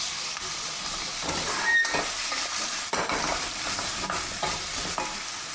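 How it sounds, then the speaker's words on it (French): Food gently sautéing in a pan, a steady soft sizzle and hiss with occasional scraping stir sounds and clinks, close by with no voices. "on fait revenir doucement à quelques minutes"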